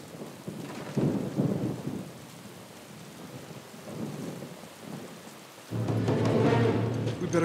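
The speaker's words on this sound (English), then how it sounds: "Thunder." Storm ambience from the Uncharted: Among Thieves video game: steady rain with low rolling thunder that swells twice, the second surge loud and close near the end, no voices.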